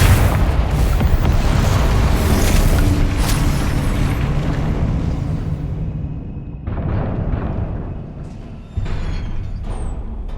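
A heavy, roaring Confringo explosion spell from Hogwarts Legacy booms loud and close, rumbling for several seconds before fading, then a second blast bursts in, with faint magical crackles trailing behind and no talking.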